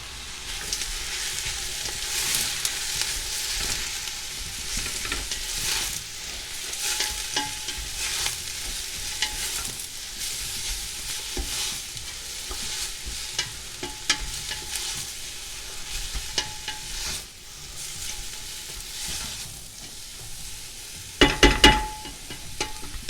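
Onions frying in a pan: a continuous crackling sizzle with scattered pops and occasional utensil scrapes, steady and close throughout, with a brief cluster of louder clatters near the end and no talking.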